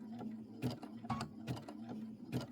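A home sewing machine runs under foot-pedal control, finishing a Christmas quilted wall hanging, giving a soft mechanical whirring with rhythmic clicking bursts about every second, close and quiet over a faint hum, without speech.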